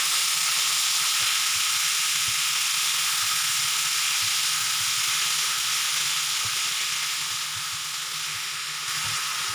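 500 grams of 5-star beef mince sizzling in a hot pan on an electric stove, a loud, steady hiss of frying close up with faint stirring knocks beneath, easing slightly toward the end, with no voices.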